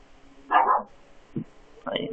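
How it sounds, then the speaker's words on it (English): Dogs bark at a cat outdoors at three in the morning, a few short, muffled barks and yips at moderate distance, spaced apart, while someone talks nearby. "I'm sorry about the dogs right now."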